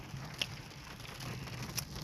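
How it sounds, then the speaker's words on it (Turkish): Steady hiss of rain falling continuously, with a few brief brighter drops or taps standing out. "yağmur yağıyor"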